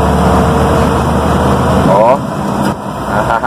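Vehicle engine running close and loud, then dropping in pitch and level during a gear change partway through, with a brief whine as it settles; a voice is heard over the engine.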